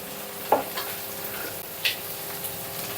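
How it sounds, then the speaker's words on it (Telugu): Green beans and cashews frying in a pan for a potato-carrot rice lunch box dish, a low sizzle under occasional spatula clinks and stirring taps, close and fairly quiet. "బీన్స్ యాడ్ చేస్తున్నా. ఆ తర్వాత క్యాష్యూ,"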